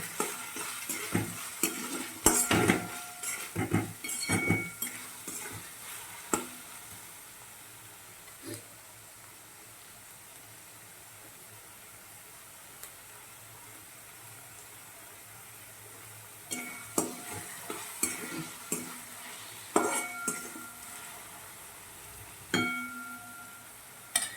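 Salted onion fries in a pan as a soft sizzle, broken by bursts of scraping stirring at the start and again near the end, with a quieter simmering stretch between.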